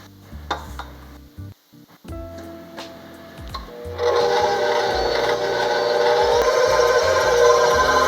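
An electric stand mixer kneads dough for chicken sandwich buns. After a few clanks and bowl knocks, the motor starts up halfway through and runs with a steady, fairly loud whir to the end.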